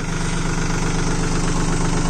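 A Swaraj Target 630 4WD mini tractor with a 30 HP Yanmar 1.3 litre engine runs close by, a loud, steady diesel chug with even, rapid firing pulses and no talking over it.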